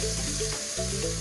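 Garlic and ginger paste sizzles in hot oil in a home kitchen pan while chicken vindaloo is cooked, giving a steady, fairly faint hiss with a low hum underneath and no talking.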